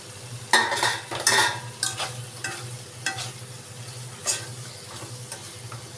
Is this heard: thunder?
no